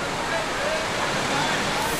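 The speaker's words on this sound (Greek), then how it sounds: "Οι δρόμοι έχουν μετατραπεί σε ορμητικά ποτάμια." Torrential floodwater rushes through city streets after heavy rain, making a loud, steady, broadband roar that fills the whole span without a break.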